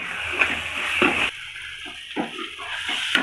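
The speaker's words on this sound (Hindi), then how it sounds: "मैं थोड़ा सा डालूँगी पानी ताकि ये मसाला अच्छे से बन जाए" Water is poured into a cooking masala paste of tomato, red chilli, chilli flakes and turmeric in a pan, giving a short splash followed by lighter trickles and a sizzle that carries on.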